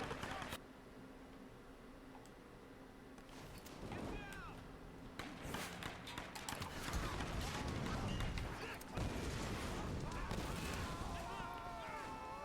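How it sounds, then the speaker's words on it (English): An explosion in the video game Tomb Raider bursts out as crashing, rumbling blasts that build partway through over a steady game soundscape, with a player's voice talking over it. "What caused that explosion?"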